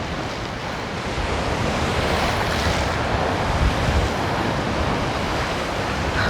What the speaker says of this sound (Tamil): இதில் பாருங்கள் அலையடிக்கும் அம்மா பயங்கரமாக அடிக்குது